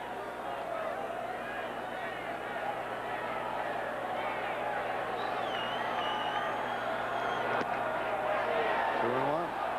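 A stadium crowd at the 1991 NLCS Game 7 between the Braves and Pirates, grumbling in protest at an umpire's call, heard as a continuous loud roar of massed voices with a few whistles near the end.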